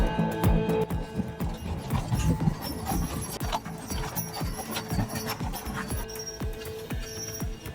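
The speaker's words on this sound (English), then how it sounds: "his American Brabant horses pull a storage container" American Brabant draft horses clip-clop along while pulling a storage container, their hooves striking in a steady, uneven rhythm of sharp knocks over a quiet outdoor background.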